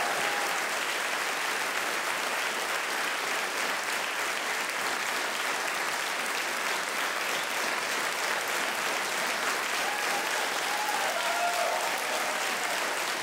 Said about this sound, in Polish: Wielkie brawa dla pani Agaty, wielkie brawa za wspaniałą postawę obywatelską.